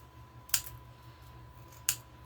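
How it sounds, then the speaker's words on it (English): Scissors trim excess paper off a handmade journal pocket, two quick separate snips over a quiet room hum, close and fairly soft. "And I'm just going to trim it off."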